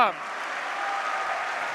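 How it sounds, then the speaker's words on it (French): Audience applause for high school students at an awards event, a steady, moderately faint wash of clapping that follows a brief voice at the start. "Bravo, vous pouvez vous applaudir."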